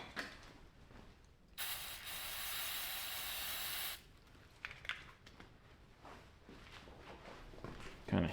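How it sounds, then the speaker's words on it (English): Brake cleaner sprays in one steady hiss of about two seconds onto a part of a Ford 4.6L 2V V8 during teardown, followed by light clinks and handling noises of parts being moved about. "kind of hit her with a little bit of brake clean up here"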